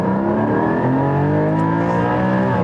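A Porsche 718 GT4 engine pulls hard through the gears, a loud, close, steady rising drone with layered harmonic whine and no pauses between shifts.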